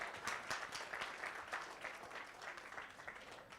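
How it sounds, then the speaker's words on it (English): Faint, distant audience applause at a morning business technology workshop and expo, a steady patter of many hands clapping throughout with no talk over it. "So please give yourselves a round of applause."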